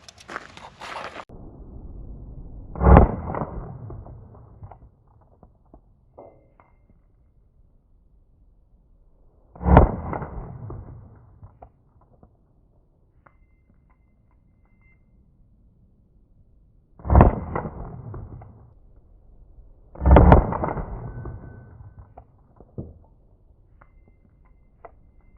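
Four loud, sharp pistol shots from a 2011 blaster firing plus P light rounds, spaced several seconds apart with brief decaying echoes after each and quiet between, no talk.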